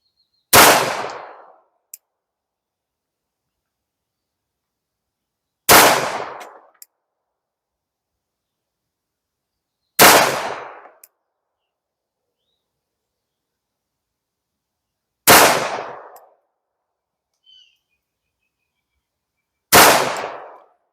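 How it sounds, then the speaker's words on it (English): An EAA Girsan MC1911 .45 ACP pistol fires five single shots several seconds apart, each a loud, sharp crack with a short decay, with only faint clicks between them and no voices. "going 5 rounds down range, 25 yards"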